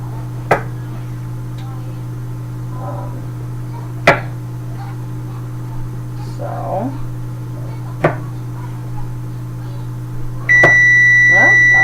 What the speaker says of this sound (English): Buzzer has gone off just in time